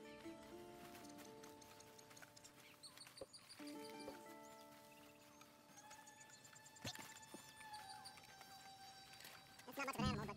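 Horse ride in the Red Dead video game, with steady hoof clip-clop and soft snorting under scattered music tones and game voices, building to a louder burst near the end.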